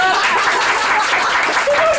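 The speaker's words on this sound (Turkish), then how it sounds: "Damada da bir alkış rica ediyorum" Guests at a party applauding for the groom, a brief dense patter of clapping with chuckles and voices mixed in throughout.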